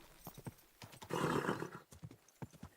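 Hooves clip-clop in a quick rhythm in the video game Kingdom Come: Deliverance 2, then a horse lets out a loud whinny before the hoofbeats resume.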